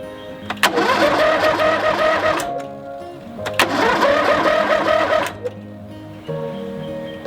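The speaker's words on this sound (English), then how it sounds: "Now all we need is a mower to start. That's rough on a cold morning." A lawn mower engine starting on a cold morning: two separate pull-start attempts, each a loud rattling roar that runs a couple of seconds and dies away, with a short mechanical clatter after the second.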